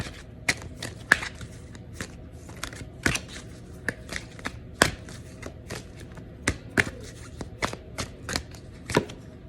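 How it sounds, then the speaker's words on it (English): Numerology cards are shuffled and pulled, producing a run of sharp, papery snaps and riffles at an irregular rhythm, close and fairly quiet, with no talking. "Pull some numerology cards on it."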